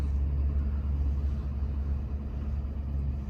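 A hotshot pickup truck rumbles past outdoors at a used-equipment lot, a steady, low, loud engine drone with no voices over it.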